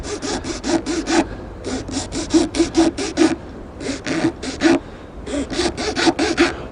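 A section of fishing pole is being trimmed with a saw, producing steady rhythmic back-and-forth rasping strokes in close, repeated bursts with brief pauses between sets.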